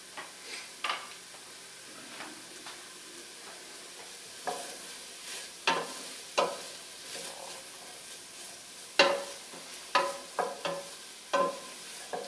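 Onion and jalapeno sautéing in a pan for a turkey curry rice soup, giving a steady soft sizzle broken by repeated scraping stirs and light taps of a utensil, close by and with no voices.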